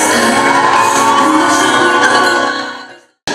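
Supporters at a club-style competition of wit in Anapa shout and cheer loudly for contestants, a dense crowd roar that fades out before a brief restart at the end.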